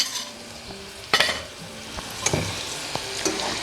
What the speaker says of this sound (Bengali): এই ক্ষেত্রে সাদা তিল দিয়ে দিচ্ছি আমি 1 টেবিল চামচ পরিমাণ। এটাকে একটু রোস্ট করে নেবেন